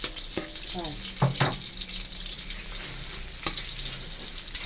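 Thai red curry paste sizzles and fries in a wok while being stir-fried for a spicy morning glory dish, with steady crackle and a few sharp stirring scrapes and clatters.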